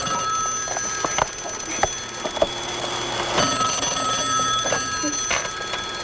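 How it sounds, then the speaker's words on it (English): A telephone rings indoors at Christmastime with repeated bright electronic trills and tones over a faint background hum, along with scattered clicks and bumps. "The phone's ringing."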